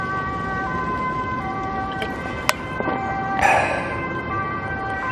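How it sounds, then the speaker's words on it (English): A distant emergency vehicle siren wails steadily in a quiet outdoor setting near Amsterdam, its tone holding for several seconds with a brief sharp click and a nearby passing swish midway. "Now there's a siren as soon as I say how quiet it is."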